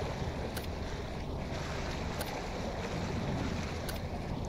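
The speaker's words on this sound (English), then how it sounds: "the water is constantly fucking flowing and disturbing my ears" Water flows steadily inside a submarine in the Barotrauma video game, a dense, continuous rushing wash with faint periodic ticks above it, with no talk over it.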